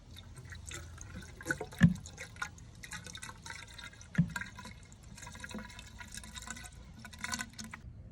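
Vinegar is poured into an air-conditioner drain line, giving a faint, uneven trickle of liquid with a few louder drips and splashes into the pipe; no one speaks.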